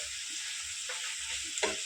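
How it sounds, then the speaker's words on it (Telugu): Boti, goat tripe, sizzles faintly in a pan while being stirred, giving a soft, steady fry hiss broken by a few scraping stirs. "ఇట్లా కలుపుకుంటూ ఒక 4 నిమిషాల దాకా ఫ్రై చేసుకుందామండి"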